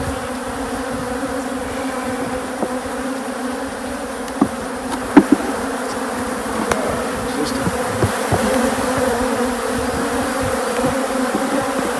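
Robber bees chewing into a honey hive buzz in a dense, continuous swarm, steady and close, with a few louder individual bees zipping past the microphone and no talking.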